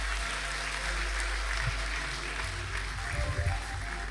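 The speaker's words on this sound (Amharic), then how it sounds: "በደንብ አጨብጭቡ ለጌታ" A church congregation claps together in a dense, steady wash of applause that holds throughout, with a few louder hand strikes and low rumble near the end.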